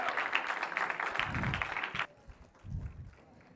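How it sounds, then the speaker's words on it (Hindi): Audience applause at a live music tribute concert for Raj Kapoor, a dense burst of clapping that runs for about two seconds, then cuts off abruptly, leaving a quieter, fainter patter of clapping and crowd noise. "A huge round of applause first."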